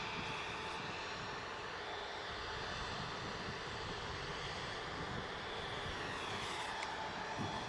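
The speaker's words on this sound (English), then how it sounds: "on the taxi out is the Aer Lingus A321 Neo long range we saw" An Aer Lingus A321neo jet taxiing at Manchester Airport gives a steady, continuous engine whine and rumble at moderate distance, with a faint high tone throughout.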